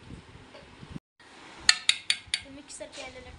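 A spoon scrapes and clinks against a cooking pot as chicken biryani masala is mixed: a quiet stretch, then four or five sharp, close metallic clinks in quick succession, with soft kitchen background noise.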